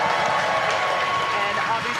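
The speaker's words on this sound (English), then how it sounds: "obviously confirmed by the loud cheer behind us here at Mission Control Hawthorne" A crowd cheers loudly and continuously at SpaceX Mission Control in Hawthorne after rocket stage separation, a dense roar of voices and some clapping close by.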